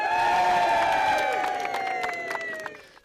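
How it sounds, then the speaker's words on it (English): A large crowd at London's Bankside cheers and applauds as the Liberal Democrats announce their candidate for London Mayor. The roar is loud and continuous with dense clapping, then slowly fades. "Cheers and applause at London's Bankside today"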